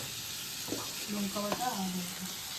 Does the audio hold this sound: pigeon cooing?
no